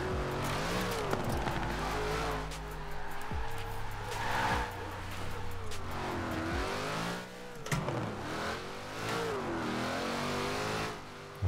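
A Ford Mustang drifts in Forza Horizon 4, its engine revving hard with rising and falling pitch as the tires squeal through the slide, loud and continuous, with a voice talking over it.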